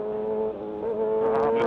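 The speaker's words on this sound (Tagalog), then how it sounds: "Motor, may motor." A passing motorcycle, heard from a downhill ride, gives a steady engine drone that swells and rises near the end as it approaches. It is brief and moderately loud, with no talk.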